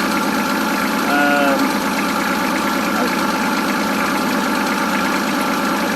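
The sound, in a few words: Kubota L3200 tractor engine running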